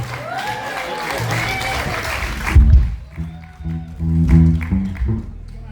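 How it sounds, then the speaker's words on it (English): Applause from an audience at a lifetime achievement award ceremony in Ballyshannon, loud and full at first, then fading as the crowd settles, with a voice talking over it and music playing toward the end. "actually that's enough applause for a 14-year-old."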